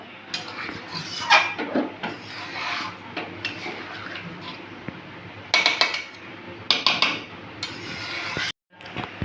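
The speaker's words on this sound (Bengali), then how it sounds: "এবার একটু নাড়িয়ে চাড়িয়ে নিতে হবে নাহলে নিচে মশলাগুলোকে পুরো মিক্সড হবে না" A metal spoon stirs a spiced curry gravy in a cooking pot, giving close, irregular clinks and scrapes in bursts, with a louder clatter near the end.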